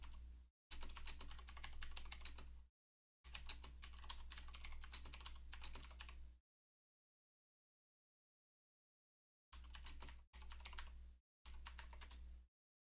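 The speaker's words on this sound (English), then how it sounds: "Typing. You know typing?" Typing on a computer keyboard comes in dense bursts of rapid, close clicks, with short pauses and a long silent gap between runs.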